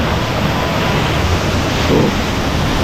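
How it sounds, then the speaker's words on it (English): A waterfall in Prince William Sound, Alaska rushes in a loud, dense, unbroken roar heard up close, steady throughout with no voices. "Should I go in the waterfall?"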